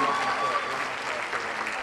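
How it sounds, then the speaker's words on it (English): Audience applause for the judges at a university student showcase: dense, steady clapping from a crowd, moderately faint and continuous throughout, with no voices standing out. "let's clap it up for our judges."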